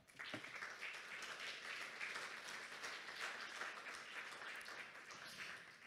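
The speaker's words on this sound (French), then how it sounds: "Je pense qu'on peut l'applaudir une dernière fois." Audience applause at the close of a conference talk on agile frameworks, a steady dense wash of many hands clapping, faint and distant, with no speech over it.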